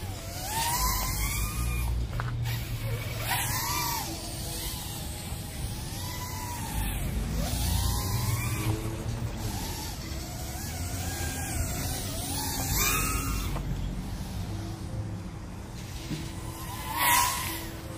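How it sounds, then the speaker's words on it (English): Tiny 1402 9500Kv and 1104 7500Kv brushless motors on a small quadcopter whine through a punch test, their pitch sweeping up and down repeatedly as throttle surges, with steady wind noise underneath. "So really smooth sounding flyer with these motors on it."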